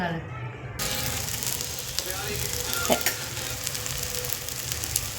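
Dhapate, flatbreads of bhagar and potato made the traditional way for Navratri fasting, fry on a hot pan with a continuous close sizzle and occasional stirring or scraping sounds.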